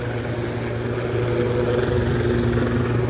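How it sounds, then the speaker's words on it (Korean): A helicopter flies patrol over a burned-out wildfire site in spring drought, its steady loud rotor and engine drone filling the whole stretch with a constant low throb and whine, no talking heard. "아직까지도 헬기가 에, 예, 순찰 비행을 하고 있습니다"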